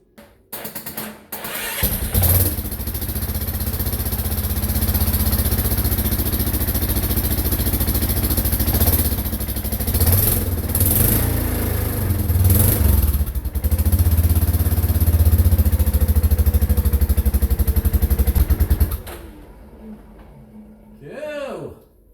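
A Yamaha Kodiak 450 ATV with its exhaust fitted and a low battery on a charger cranks, catches and runs loudly at close range for roughly sixteen seconds with a steady rumbling idle, then shuts off abruptly.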